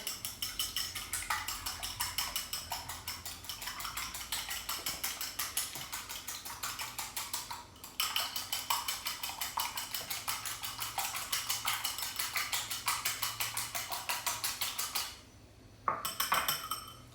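Banana pudding ingredients being mixed in a bowl, giving a steady, fast run of scraping, clinking strokes from a utensil against the dish that carries on nearly without a break, pausing briefly once near the end.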